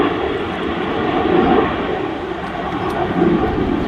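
A Citation jet departs runway 05 left at Manchester Airport, its broadband engine roar steady and fairly distant, swelling slightly as it climbs out.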